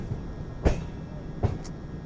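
The Azad Hind Express rolls along with a low rumble and two sharp knocks from the rail joints or carriage, fairly quiet and close, with no talk.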